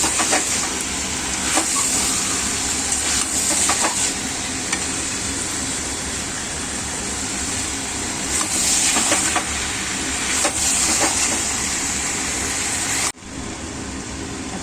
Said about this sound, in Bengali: এবার ভালো করে কষানো চলছে, মাটনটা ভালো করে কষাতে হবে।